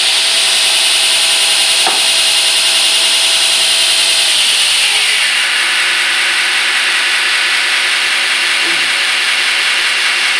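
A 2x72 belt sander used as a knife grinder runs with a loud, steady whine and hiss of abrasive rubbing, its pitch easing down partway through as the load changes, close up and alone.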